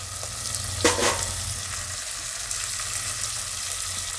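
Turmeric and coriander-cumin powder hit hot oil in a pan for an onion-potato Gujarati curry, giving a steady close sizzle with a brief scraping stir near the start, then continuous frying hiss.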